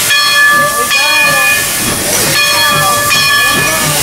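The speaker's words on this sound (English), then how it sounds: "Steam starting to whistle. Yes, that's our train." A steam train hisses continuously while a high steam whistle sounds in steady tones, close and loud, at a roadside attraction in Lincoln, New Hampshire.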